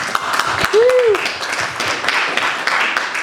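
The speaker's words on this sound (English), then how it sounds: "A round of applause." Audience applause rings out at a film festival Q&A in New York, a steady wash of clapping lasting a few seconds with a brief tonal whistle-like sweep near the start.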